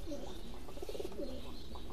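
Pigeons coo softly at a pigeon farm housing fancy, racing and high-flying breeds, the low murmuring calls faint against a steady background hiss.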